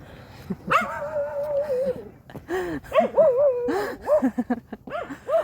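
Dogs bark, yip and whine excitedly in a series of close, high-pitched calls, some drawn out and whimpering, others short and rapid.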